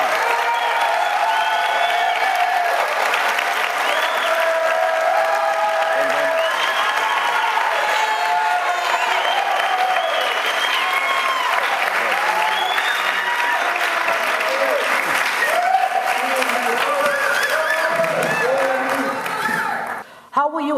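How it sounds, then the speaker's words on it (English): Sustained applause and some cheering from an audience at a candidate debate for California's 34th congressional district, steady and loud for about twenty seconds before cutting off, with voices mixed into the crowd noise. "Big round of applause for our two candidates"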